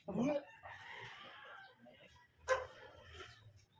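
Chicken or rooster outside a house near a garden, a few short clucking, crowing calls at middling distance, with quiet household noise and faint voices around.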